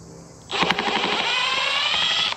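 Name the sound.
power gun driving a bolt during Grom intake install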